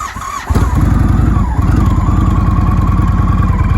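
An Indian Chief Dark Horse motorcycle engine (2017 model year) idles loudly and steadily nearby, its rapid even firing pulses after a brief quieter start.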